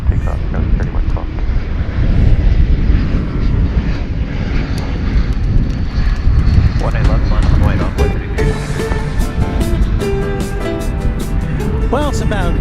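An airplane taking off from runway 18 left at DFW Airport, a loud, sustained jet engine roar with wind buffeting the mic while people talk over it.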